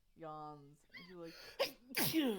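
A person imitates a sneeze with their voice, a sharp burst and breathy release following a short stretch of talk during a tabletop roleplaying game session.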